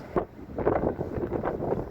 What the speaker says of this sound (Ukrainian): вітер такий холодний-холодний, колючий, пронизливий